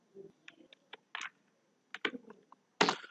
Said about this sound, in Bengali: সো হেক্স কোড লিখছি।